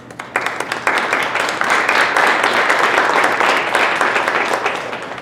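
A luncheon audience applauds scholarship students, with a dense, steady burst of clapping from many hands that starts abruptly and carries on evenly.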